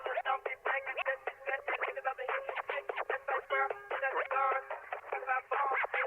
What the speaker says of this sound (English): To give it a cool effect, I added these scratches from Effectrix.